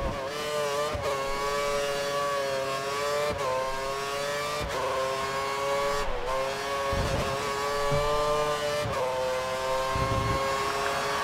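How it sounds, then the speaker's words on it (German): Renault Formula 1 car in the F1 2013 racing game at Marina Bay street circuit in Singapore, engine screaming at full throttle with steady high-pitched revs, brief dips at gear changes, loud and continuous. "Runde fahre ich noch zu Ende auf volle Düse."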